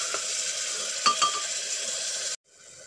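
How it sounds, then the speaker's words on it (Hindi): Garlic, onion and tomato masala paste fries in a pan for aloo matar curry, a dense sizzling hiss broken by a couple of spoon clinks as it is stirred, before the sound abruptly drops away. "देखिए मसाला हमारा अच्छा भून रहा है"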